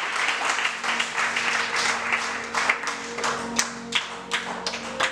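Church congregation during a worship service applauding, a mix of scattered individual claps and sharper rhythmic hand hits over several seconds, moderately loud in a reverberant hall with a faint steady hum underneath.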